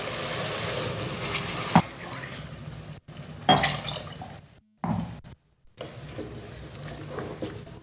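Water is poured into basmati rice in a cooking pot for mint pulao, a close splashing, trickling flow broken by a few brief gaps and sharper splashes.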